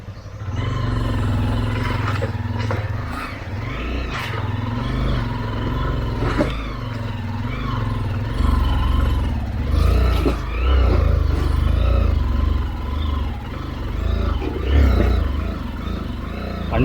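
A Hero Karizma R or Xpulse 200 4V motorcycle climbs an offroad forest trail in Idukki in second gear. The engine drones loud and close with a rising, labouring tone and occasional rattles.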